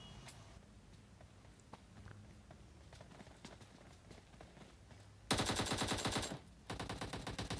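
Rapid automatic gunfire in the mobile battle royale game PUBG Mobile, two loud sustained bursts of fast shots near the end separated by a brief pause, following quieter footsteps and ambient game sounds.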